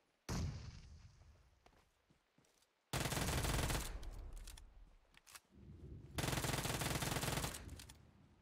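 Gunfire in the PUBG Mobile video game, loud sustained bursts of automatic fire in three long volleys separated by short gaps, each onset sharp and the shots blending into a continuous roar.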